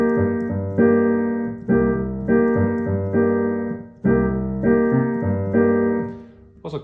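Piano plays a one-bar bossa nova rhythm pattern, repeating syncopated chords that ring and decay in a steady loop, alone and without talk.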